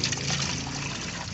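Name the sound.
pouring water into a bucket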